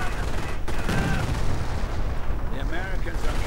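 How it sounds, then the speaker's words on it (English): Machine guns hammering in a WWII strategy game battle with German infantry and tanks, dense rattling gunfire and distant booms layered close, with a voice talking over it. "Machine guns hammering away."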